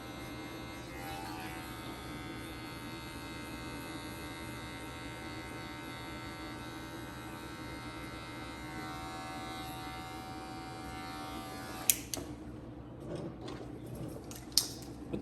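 Electric hair clippers buzz steadily and close by while cutting hair, the lever being adjusted during the pass. The buzz stops near the end, followed by a few sharp clicks and handling knocks.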